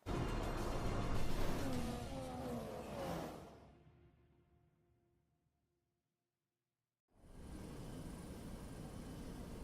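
Race cars roar around the desert circuit at Sakhir, Bahrain, in the F1 2016 video game, a loud rushing engine wash that fades to silence midway before the engine noise returns strongly.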